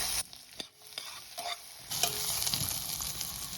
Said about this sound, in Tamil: கடாயில் கொஞ்சம் எண்ணெயை ஊற்றி கிராம்பு, பட்டை, வெங்காயம், முந்திரி, தேங்காயை போட்டு நல்லா வதக்கிங்கோ